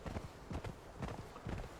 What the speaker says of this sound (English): If I can get back on the horse